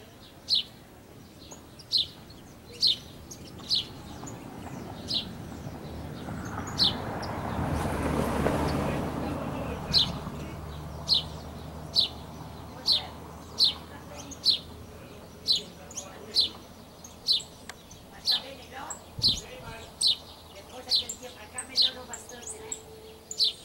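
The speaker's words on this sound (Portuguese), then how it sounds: "Canarinho amarelo, canarinho conhecido como canarinho da terra" A saffron finch at a bird feeder on a rural smallholding gives short, sharp chirps in a regular, spaced series, clear and fairly close, over a soft rush of wind.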